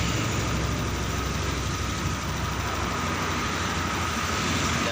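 A Honda Scoopy FI motorcycle with fuel-injection faults idles at about 1500 rpm, giving a steady, close, unbroken engine drone with no talk over it.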